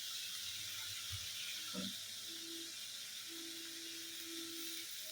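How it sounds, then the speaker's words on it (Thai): Water poured into a cooking pot of Thai chicken om curry, a soft, fairly faint running splash against a quiet kitchen background. "ไปใส่น้ำเลย"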